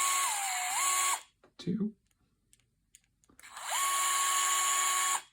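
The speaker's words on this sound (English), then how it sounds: "all we have to do is unscrew these 4 brass screws" A small electric screwdriver backs brass screws out of a humbucker pickup in two steady whirring runs, each about a second long, with a brief spoken count and faint clicks in the gap between.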